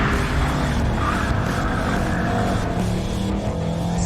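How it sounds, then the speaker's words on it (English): A performance wagon, an Audi RS6 or Mercedes-AMG E63 S, skidding around a corner: a loud, continuous engine drone with tyre scrub, held close and steady throughout with no break. "This does skids easier than an M2 competition and a Supra because the wheelbase is long."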